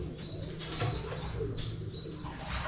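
Young pigeons in a loft with a trapdoor coo softly in low, repeated throaty calls, with faint chirps and brief wing flutters nearby against quiet background noise.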